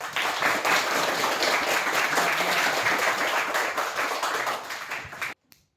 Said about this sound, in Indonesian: Karena itu tepuk tangan untuk Tuhan Yesus.